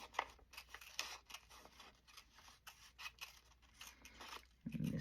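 Scissors snip through paper while trimming pieces for daisy-themed journal cards, a run of short, quiet cuts in an irregular rhythm, close by and with no talking.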